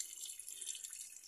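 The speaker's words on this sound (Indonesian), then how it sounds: "Kita siram sampai airnya itu meluber," Water poured onto a potted aglaonema plant until it overflows the pot, a soft continuous trickling and splashing, faint and close, with no voices.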